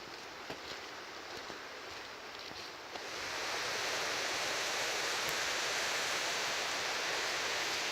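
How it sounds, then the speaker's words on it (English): Steady rushing creek water flows nearby on a wilderness trail, quiet at first and then louder and fuller, with no voices. "We're getting closer and closer to the creek,"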